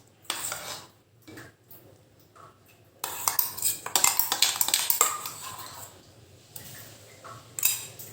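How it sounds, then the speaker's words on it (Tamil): A spoon scrapes and clinks against a pot as ground sweetcorn paste is stirred into soup, with irregular metallic scraping and tapping that grows busier and louder partway through, no talk. "சேர்த்து நல்லா கலந்துருங்க."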